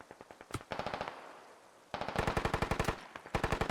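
Medium machine gun firing in the video game Squad, two long sustained bursts of rapid, evenly spaced loud shots separated by a brief pause, with no talk over them.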